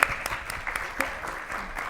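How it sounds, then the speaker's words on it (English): An audience applauds a guest on a teen talk show stage, steady clapping at moderate volume with a few sharper claps standing out, continuing throughout. "Can we give her a round of applause?"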